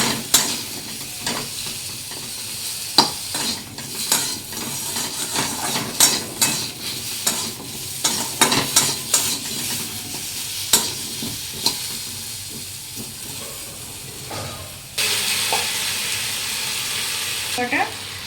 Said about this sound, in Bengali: কচুটা আমি ভেজে নেবো।